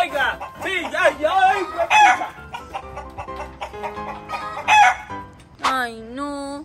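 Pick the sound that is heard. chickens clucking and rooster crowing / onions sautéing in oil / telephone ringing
chickens clucking and rooster crowing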